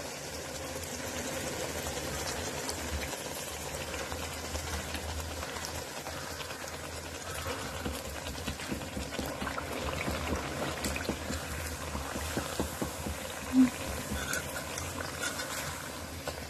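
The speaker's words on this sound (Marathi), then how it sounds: "अशा प्रकारे आपण बाकीचे पण वडे तळून घेणार आहोत" Chicken vadas (kombdi vade) fry in hot oil with a continuous soft, crackling sizzle and faint bubbling, steady throughout, with one brief louder knock near the end.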